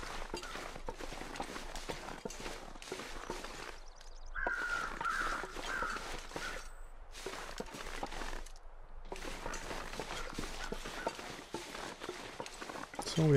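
Crows in The Long Dark caw intermittently at a distance, thin harsh calls surfacing between crunching footsteps and movement, while a person talks over much of the scene.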